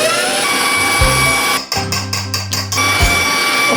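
An electric mixer whisks flavored French buttercream for macarons, a loud, close whirring burst of about two seconds that pulses slightly as it runs.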